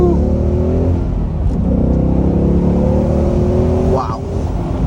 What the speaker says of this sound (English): Looks like we'll have a good opportunity to get a little acceleration right here.